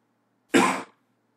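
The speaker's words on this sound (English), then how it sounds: "I apologize for the coughs." A single short, sharp human cough sounds close and alone, with quiet surrounding it.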